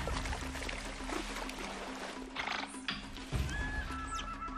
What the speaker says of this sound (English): This is likely a rallying call for the family.